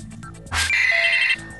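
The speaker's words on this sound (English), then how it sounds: "campanology, the gentle art of bell ringing" One bell struck in a bell-ringing demonstration, a bright clang that settles into a sustained ringing tone for about a second between softer tonal sounds.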